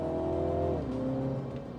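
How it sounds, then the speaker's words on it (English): MINI John Cooper Works engine revs steadily, then its pitch drops as the revs fall and settle into a smooth hum, close and loud without a break. "And it's got a nice soundtrack. I will admit, I am a fan. It's a strong engine."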